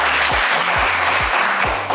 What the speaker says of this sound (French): Et ça s'applaudit bien fort.